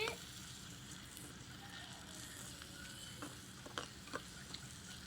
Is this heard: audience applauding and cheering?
no